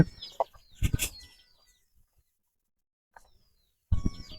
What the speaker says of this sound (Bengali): মুরগি কক কক কক কক করে ডাকছে